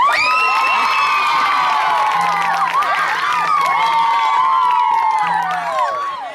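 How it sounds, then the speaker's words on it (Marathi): An audience at a Marathi stage play, Vastraharan, erupts in loud, sustained cheering, whoops and shouts with some clapping mixed in, a continuous crowd roar that fades slightly at the end. "प्रेक्षकांनी टाळी वाजवा"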